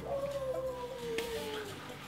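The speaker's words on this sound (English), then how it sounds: "Dog barking outside." A dog outside a home office gives one drawn-out, falling howl-like whine lasting about two seconds, fairly close and clear against a quiet room, with no speech.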